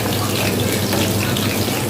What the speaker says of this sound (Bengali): তো এখন আমি এভাবে লোহিতে ভেজে নিব